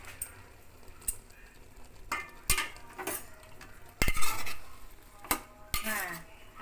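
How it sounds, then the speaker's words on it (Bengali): Taro leaves (kochu shak) being stirred in a covered pot, with scattered metallic clinks and scrapes of a spoon against the pot over a low sizzle, irregular and close, no speech. "এসে একটু নেড়ে দেখছি"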